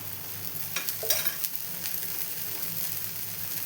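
Ragi dosa batter sizzles in a little oil on a hot pan, a steady close crackling fry with a few sharp scraping taps early on, no talking.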